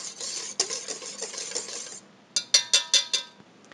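Utensil mixing donut batter ingredients in a bowl gives a steady scraping and clinking for about two seconds, then four sharp, evenly spaced knocks against the bowl.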